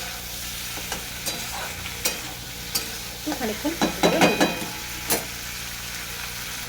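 Flat beans, potato and tomato sizzle in a hot pan while a spatula scrapes and clacks against it in quick strokes; a voice briefly speaks over the cooking.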